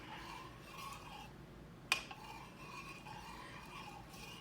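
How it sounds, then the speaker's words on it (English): A spoon stirring dissolved jello with cold water in a dish, faint soft scraping and swirling with one sharp clink against the side partway through, no voices. "I am going to once again stir this."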